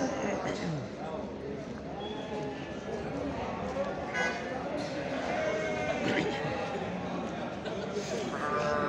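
Lambs bleating repeatedly at the Çorum small-livestock market, several animals calling near and far amid a busy crowd, with people talking throughout.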